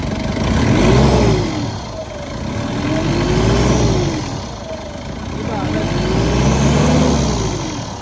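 A turbocharged second-generation Mitsubishi Montero with a low-power fault revs in a workshop, the engine note swelling and falling in three or four repeated rises, loud and close, with voices talking over it.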